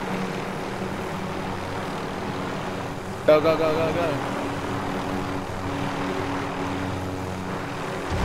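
Video game helicopter drones steadily with a loud rotor and engine hum throughout, while players talk excitedly over it.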